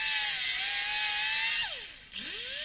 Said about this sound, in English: the tool that I use is this angle grinder with this kind of head, and it's like almost like a hardened Scotch-Brite